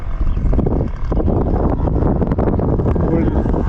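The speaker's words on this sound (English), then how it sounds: "It's so windy. Hope it's not too loud." Heavy wind buffets the microphone outdoors on a lawn during a mow, in a continuous low rumble, loud and close, with gusty surges throughout.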